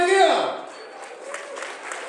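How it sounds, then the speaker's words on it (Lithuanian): Applause from an awards ceremony audience at the LOGIN 2012 awards, greeting the best online game winner: a broad clatter of clapping that rises after a brief tonal flourish and carries on steadily, with a few louder bursts near the end. "Plojimai vėl!"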